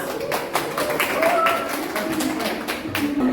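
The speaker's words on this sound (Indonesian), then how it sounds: "Oke, betul. Tepuk tangan." Students in a classroom clap for a correct answer in a quick burst of uneven, overlapping hand claps, with murmured voices underneath.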